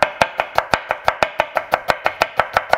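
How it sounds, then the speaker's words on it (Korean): Carrots sliced with a knife on a cutting board, not too thin, for japchae: about fifteen crisp, evenly spaced chops in a steady quick rhythm, close and clear with no talk. "당근 같은 경우도 너무 얇지 않게 썰어주시는 게 좋습니다."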